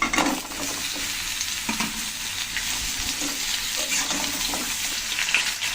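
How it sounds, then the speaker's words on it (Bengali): Vegetable stems and papaya added to fried potatoes in a frying pan for a vegetable curry, a loud, continuous close sizzle with occasional stirring scrapes. "এখন ডাটা আর পেঁপেগুলো একসাথে দিয়ে দিচ্ছি।"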